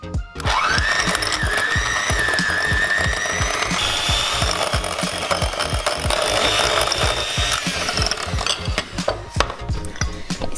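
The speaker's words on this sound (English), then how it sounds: "put it in our mixing bowl, and then we're going to beat it until it's light and fluffy" An old-fashioned hand mixer beats softened butter in a mixing bowl, giving a loud, continuous whirring drone with rapid rattling clicks from the beaters that runs unbroken for about ten seconds, close up and with no talking.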